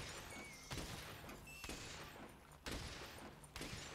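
Shotgun spread ammo firing in Monster Hunter World, four heavy blasts roughly a second apart over dense game noise, loud and close with no talking.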